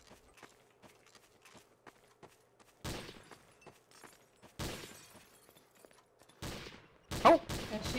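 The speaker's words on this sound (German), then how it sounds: "Er schießt leider." Gunfire in the first-person shooter game Trouble in Terrorist Town: several sharp, loud shots spaced apart, standing out against a quiet background scattered with faint clicks and small noises.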